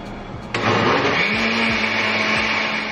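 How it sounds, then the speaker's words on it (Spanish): Kitchen blender whirring as it blends enchilada sauce with a block of cream cheese, the motor kicking up loudly after half a second and then running steadily and fairly close. "vamos a agregar toda nuestra barrita de queso crema"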